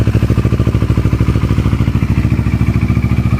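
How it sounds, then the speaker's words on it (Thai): A 2016 Kawasaki Versys 650 with a full Akrapovic exhaust idles close by, its engine running in a steady, even low pulse with no surging or stumbling, heard alone without talk. "ตัวรถนะครับเครื่องยนต์จบๆนะครับเครื่องเงียบเดินรอบเบาเดินนิ่งนะครับผม ไม่มีสวิงไม่มีสะดุดนะครับ"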